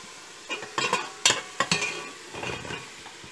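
Sliced onions sizzle in a pan for Thalassery beef biryani. Several quick, close stirring scrapes and clinks of a spoon against the pan sit over a soft frying hiss.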